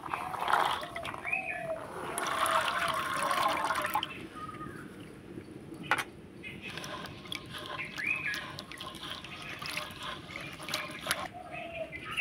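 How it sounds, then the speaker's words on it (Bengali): Shelled green peas being washed in water, with trickling and sloshing splashes in shifting bursts, fairly close, over a low steady background. "তো মটরশুঁটিগুলোকে আমি পরিষ্কার করে ধুয়ে নেব।"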